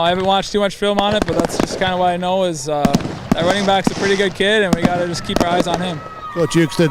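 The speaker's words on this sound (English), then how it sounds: "You can hear the fireworks in the background from the Buxton Fire Department here tonight." Fireworks set off by the Buxton Fire Department on a high school football game night in North Dakota pop sharply in the background, under someone talking continuously in the foreground.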